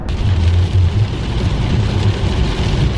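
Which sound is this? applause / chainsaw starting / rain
rain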